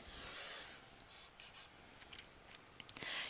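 Someone draws a Ferris wheel by hand, making faint scratchy strokes that come in short bursts with brief pauses, close by and quiet, with no talking.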